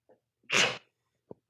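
A single sharp sneeze, close and fairly loud, with a faint breath before it and a small click after.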